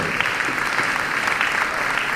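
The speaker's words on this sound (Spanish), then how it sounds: "Un aplauso." An audience at a panel discussion breaks into dense, continuous applause after a panelist finishes, a steady wash of many hands with no voices on top.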